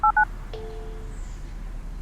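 A phone keypad in a video game beeps two quick dialing tones, followed by a single ring tone on the line, clear and close against a quiet background.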